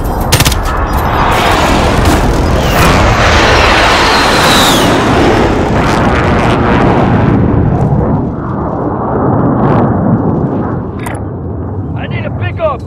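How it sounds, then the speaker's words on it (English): Precision airstrike explosions in Call of Duty: Modern Warfare, heavy booms and crackling blasts mixed with rattling gunfire, loud and continuous before easing off, with voices talking over the action. "Allied precision airstrike incoming"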